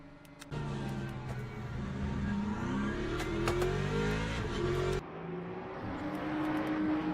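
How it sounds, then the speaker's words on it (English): A Ford Mustang race car engine in the Le Mans Ultimate racing game revs and accelerates loud and close, its pitch sweeping upward through gear changes, a brief drop near the end before climbing again, with no talk. "the Mustang sounds good on this game, doesn't it?"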